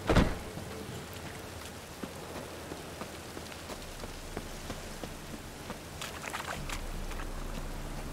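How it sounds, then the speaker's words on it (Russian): Steady rain falls in The Witcher 3: Wild Hunt, a soft continuous patter with a few brighter drips and faint footsteps, no talking. "буду гулять под дождем"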